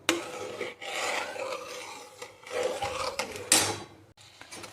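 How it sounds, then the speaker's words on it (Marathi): Semolina being stirred and roasted in a pan for sheera, a close, dry scraping and rubbing of the spoon against the pan in uneven strokes, with brief louder scrapes. "आता हे एकसारखं ढवळून घ्यायचं आहे आणि गुठळ्या झाल्या नाही पाहिजे रव्याच्या"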